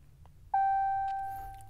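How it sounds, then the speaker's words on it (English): A car's dash chimes after a diagnostic connection to the ABS control unit: a short tick, then one clear electronic beep that rings and slowly fades, with faint clicks and low hum around it. "more things are beeping, saying service electronic braking system, and this will continue to flash and beep at you"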